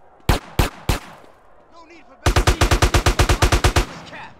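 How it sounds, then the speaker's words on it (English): Police gunfire in GTA: San Andreas: three loud separate shots, a short pause, then a rapid run of about fourteen evenly spaced automatic shots, close and punchy. "I'm just ignoring the cops while they shoot me."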